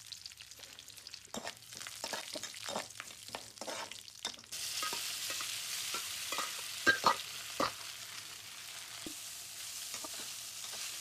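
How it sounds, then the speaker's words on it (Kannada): Urad dal, mustard seeds and curry leaves crackle in hot oil as a tempering for Karnataka-style shavige bath, a faint sizzle with scattered pops and stirring scrapes and no talk. "ಇದಿಷ್ಟನ್ನ ಹಾಕಿ ಸ್ವಲ್ಪ ಅದು ಚಿಟಪಟ ಆಗಬೇಕು"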